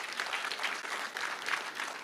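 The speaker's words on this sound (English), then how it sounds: "You must clap for him." An audience at a public service centenary event claps together, a dense, steady wash of many hands at moderate distance lasting the whole short moment, with no talking over it.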